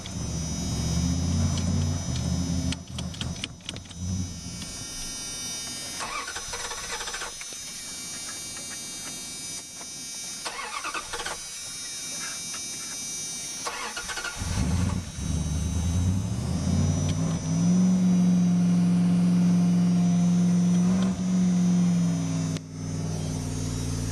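A Dodge Dakota pickup idles at about 2,000 rpm on wood gas from a Wayne Keith gasifier, a steady engine drone with a rising hum that grows louder and more tonal in the second half.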